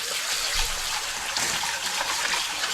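Tap water runs steadily into a pot of rice being washed in a home kitchen, a close, continuous splashing rush with no talk over it.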